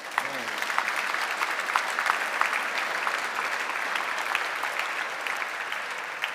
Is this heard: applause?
yes